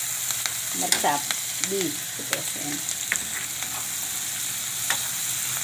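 Chopped onion sizzles in a pan of hot oil with asafoetida, a steady frying hiss with a few clicks and stirring scrapes while someone speaks a few words over it.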